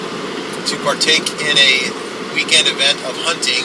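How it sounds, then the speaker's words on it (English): Steady road noise from inside a car moving north on Interstate 5 in California hums beneath someone talking. "I want to first apologize for the road noise."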